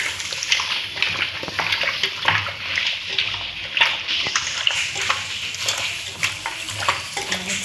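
Chicken being stirred and mixed by hand with a ground ginger, coriander and garlic paste for biryani, heard as a steady wet squelching and sloshing up close, continuous for several seconds without talk.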